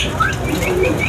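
A tropical green leafbird (cucak ijo) gives brief chirping calls over a steady busy background of other birds at a bird shop.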